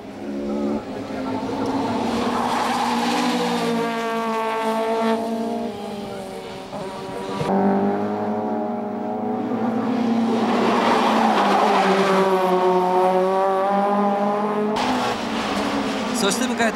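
Touring cars race at Suzuka in 1994, with a Toyota Corona chasing the leader. Engines roar and rise and fall in pitch as the cars pass, loud and sustained, under a commentator's talk.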